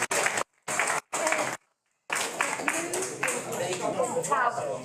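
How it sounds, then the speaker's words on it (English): An audience at a county board of education meeting claps for students, preceded by a few short bursts of sound cut by silence, then a steady round of applause carries on with voices mixed in. "I think they deserve a big round of applause."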